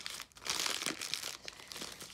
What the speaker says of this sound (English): Oh, that's a tough envelope to open.